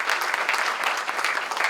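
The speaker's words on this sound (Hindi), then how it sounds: "एक बार बहुत जोरदार तालियां बजाइए" An audience at a Hindi national poetry gathering claps, a short burst of dense, steady applause that fills the whole moment, close and fairly loud, with no voices rising above it.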